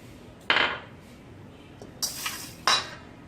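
Sugar, salt and yeast being mixed in a bowl, heard as three separate clinks and scrapes of a utensil against the dish, moderately close with quiet pauses between them.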